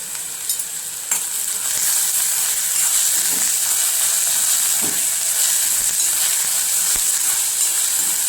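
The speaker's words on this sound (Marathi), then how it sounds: "आता तेल गरम झालंय। आता कांदा टाकूया।" Ground onion and garlic fry in hot oil in a Kolhapuri-style curry pan, a steady loud sizzle and hiss with occasional scrape of a spoon, close by and continuous throughout.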